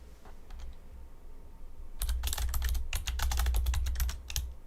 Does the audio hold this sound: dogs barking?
no